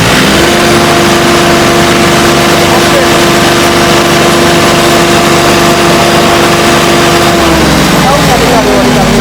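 A John Deere 5210 tractor engine, freshly fitted with a new fuel pump, runs loud and steady with a strong droning hum. Its pitch shifts near the end as it is revved, and voices can be heard beneath it.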